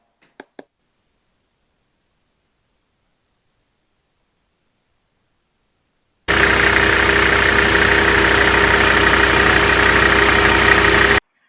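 Silence with a couple of faint clicks, then a hot Mercedes-Benz W123 engine idles steadily with a constant low hum and hiss until it stops abruptly.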